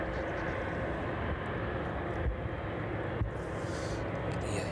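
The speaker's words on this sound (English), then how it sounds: "A couple of aircraft on approach actually now." A UPS Boeing 767 and a Jet2 airliner on evening approach to East Midlands Airport produce a broad, steady jet roar that stays loud and sustained throughout, with no talk.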